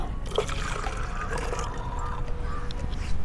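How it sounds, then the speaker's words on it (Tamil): Water pours and trickles into a container, mixed three parts water to one part humic growth-promoter mixture, a soft steady liquid stream with a faint rising tone, fairly quiet and close. "3 பங்கு தண்ணி ஊற்றிக்கணும்."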